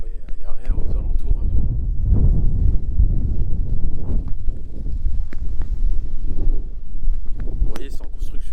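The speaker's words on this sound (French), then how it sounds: "Ça souffle, il y a du vent." Steady wind buffets the microphone with a low, continuous rumble on open ground near a construction site outside Bukhara, Uzbekistan, and a voice speaks intermittently over it.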